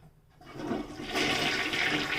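A household toilet flushes after tank cleaner has been added: a close, loud rush of water swells and keeps running as the bowl empties and refills, with no one talking.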